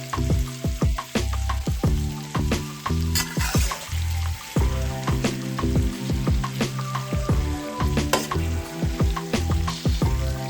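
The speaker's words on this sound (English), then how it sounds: "I'm cooking my shrimp only long enough for the color to turn pink" Shrimp fry briefly in a pan with a loud, steady sizzle, while frequent sharp clicks and taps of pieces being turned and of utensils against the pan run throughout, close and unaccompanied by talk.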